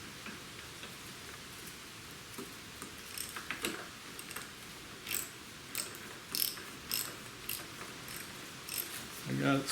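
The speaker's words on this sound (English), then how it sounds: "3/8 socket with a ratchet wrench. I'm going to apply the pressure" A 3/8 ratchet wrench with a 1 3/8 socket is turned on the end cap of a 39mm Harley-Davidson front fork, giving a string of sharp, close pawl clicks in uneven bursts over a quiet background.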